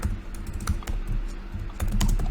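Rapid keystrokes on a computer keyboard while code is written for a Unity engine shooting-enemy script, a close, busy patter of clicks with short pauses and no speech.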